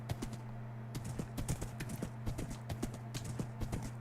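Horse hooves clip-clopping in Minecraft, a quick irregular series of hard hoof clops over a constant low game hum, close and distinct, with no talking.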